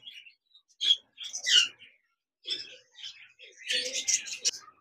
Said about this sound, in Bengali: এখানে দেখতে পাচ্ছেন একজোড়া জাপানিজ বাজরিগার রয়েছে